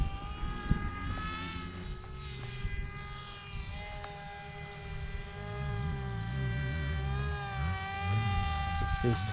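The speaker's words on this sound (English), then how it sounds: "Got your plane just above your head, Bruce" Propeller plane flying just overhead at an airfield, a steady loud engine drone with a shifting low throb as it passes, while someone talks over it.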